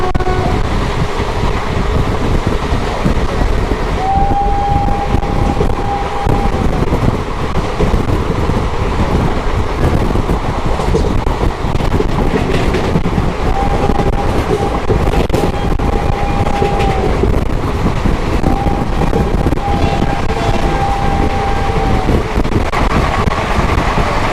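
Interior of the 14123/24 Intercity Express running from Kanpur to Lucknow: a steady, loud broadband rumble of the moving train continues throughout, with a few sustained whistle-like tones sounding briefly at intervals.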